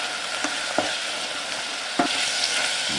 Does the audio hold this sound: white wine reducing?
yes